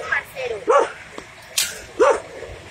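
Small dogs at a Chorrillos animal shelter give a few short yips and barks, spaced out over a couple of seconds, close by with people talking nearby.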